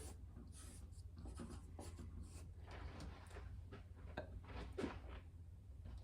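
Faint, intermittent scratching and rubbing of a pen on paper while drawing a cartoon monkey, short strokes coming in irregular bursts over a low steady hum.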